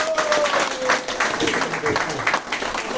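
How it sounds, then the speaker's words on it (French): Crowd clapping at a celebration of a presidential re-election and inauguration, a steady dense patter of many hands with some voices and whistling mixed in throughout. "je vous demande d'applaudir si vous le soutenez"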